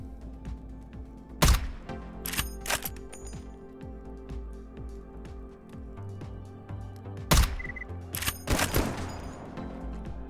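VSSK rifle shots in the STALKER GAMMA shooter game, several sharp loud cracks spaced across the stretch, some in quick pairs, over a steady ambient hum with shuffling movement between them.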